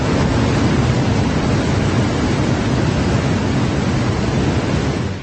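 Heavy, continuous roar of rushing floodwater and rain in Uttarakhand's hills during monsoon flooding, a loud broadband rumble that stays steady throughout with no voices.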